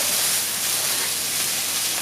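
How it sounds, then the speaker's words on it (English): Continuous loud hissing sizzle of onions, bay leaf and duck frying in a hot pan, steady and close, with no voices. "We're frying off the onions and the bay leaf, that gives it the flavour, and we're sealing and just sealing the duck"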